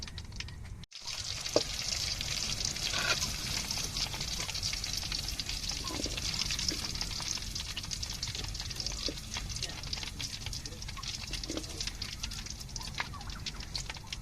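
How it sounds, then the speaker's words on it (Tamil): Boneless chicken pieces go into hot oil one at a time and fry with a steady, soft sizzling hiss and scattered crackles, while a voice talks quietly over the cooking. "இப்போ நம்ம அப்படியே எடுத்து ஒன்று ஒன்றா விட்டுருவோம் எண்ணெயில்"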